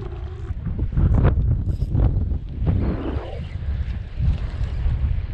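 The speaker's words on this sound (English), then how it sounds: "Man, windy day out here in Flamingo" Gusty wind buffets the mic aboard a fishing boat off Flamingo, Florida, rising and falling in loud low rumbles with occasional splashes and clatter.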